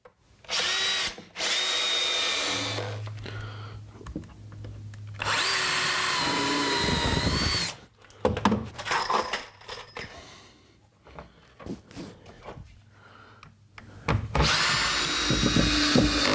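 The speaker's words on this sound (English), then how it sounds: "So I'll just screw these in place." A Bosch power drill drives screws into the wooden frame of a chicken coop in loud repeated bursts of whirring, separated by short pauses and light knocking and handling noises.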